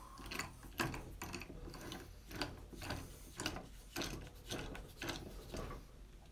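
A hand ratchet clicks in rapid bursts while tightening a fitting during work on a birch bark knife handle, each pass a close, dry run of pawl clicks repeating steadily with no talk.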